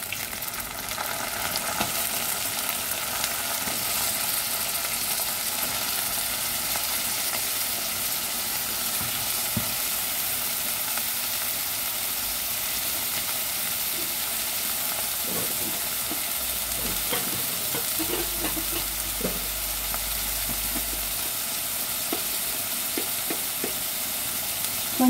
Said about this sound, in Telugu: వంకాయ ముక్కలు వేస్తున్నాను ఇందులో.